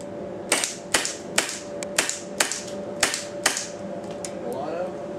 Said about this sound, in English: now I got the MP9 and shoot some on semi, some on full auto,